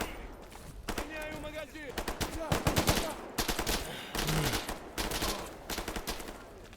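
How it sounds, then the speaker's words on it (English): Bursts of distant gunfire in S.T.A.L.K.E.R. GAMMA crackle in irregular clusters, coming from a structure ahead, while someone talks over them. "I heard distant gunfire earlier over here, and I think it's from the structure ahead."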